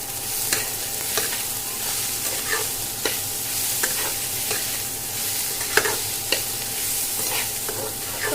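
Onions seasoned with salt and turmeric fry uncovered in a pan, a steady close sizzle broken by repeated light scrapes and taps of a stirring spoon at irregular intervals, with no speech.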